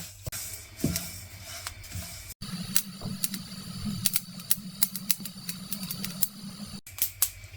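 Dense, irregular crackling and popping of flaxseeds dry roasting in a hot pan over medium-low flame, with a soft sizzling hiss underneath, close up.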